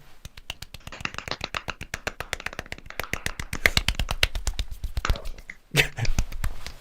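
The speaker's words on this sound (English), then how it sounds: "are we having a little bit of a clap for our NHS people?" A small group claps for NHS workers at 8 o'clock, quick close hand claps in a fast, steady run that builds slightly in density, with a brief voice near the end.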